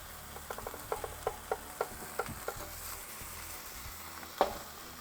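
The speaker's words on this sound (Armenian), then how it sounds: "Ու շարունակում ենք տապակելը" Quail frying in butter over an open fire, a steady sizzle with a run of sharp, evenly spaced pops and spits, then one louder crackle near the end, close by with no talk.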